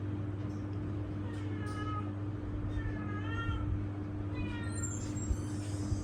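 A cat meows several times, short rising and falling cries spaced a second or so apart, over a steady low engine-like hum.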